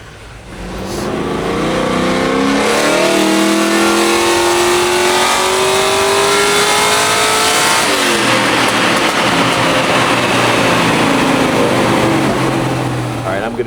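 A Camaro's LS3 V8 with a stepped exhaust pipe layout revs hard on a chassis dyno, climbing steadily in pitch through a long, loud, sustained pull, then dropping back and holding at a lower roar near the end.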